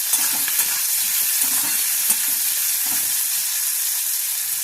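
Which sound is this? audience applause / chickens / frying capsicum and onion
frying capsicum and onion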